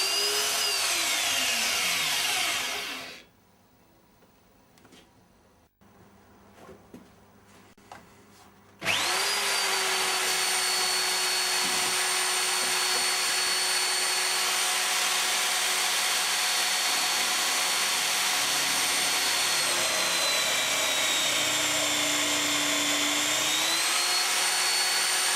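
An electric drill runs steadily and loudly at close range after its lead was repaired where it leaves the handle, stops for several seconds, then restarts and keeps whirring with a slight pitch shift near the end.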